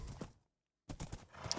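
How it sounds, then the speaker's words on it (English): Horse hooves clip-clop while riding in the Minecraft video game, a quick run of hoof knocks, then a short gap of silence before the steady clopping resumes, fairly close and without talk. "So I'm setting out on a journey here on my horse"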